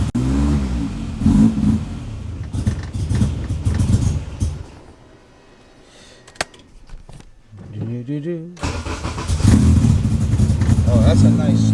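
A car engine being readied for dyno testing turns over and catches, then revs loudly in rising and falling bursts, with a brief quieter lull midway and people talking and exclaiming over it.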